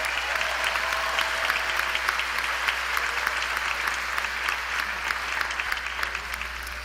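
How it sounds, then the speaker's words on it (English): A graduation crowd gives the Southland College Prep class of 2018 sustained applause, dense clapping from many hands filling a large hall, steady and loud throughout. "Let's give them another round of applause because they deserve it."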